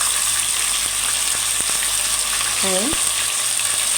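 Onion frying with meat in a pot while making Palestinian maqluba, a steady close sizzle running throughout with a brief spoken exclamation over it.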